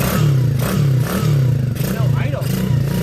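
A Coolster 125cc engine running rough with no proper idle, a loud, uneven mid-pitched drone that surges and dips in pulses, with someone talking over it.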